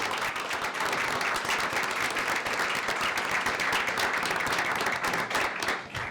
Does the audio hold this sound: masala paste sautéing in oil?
no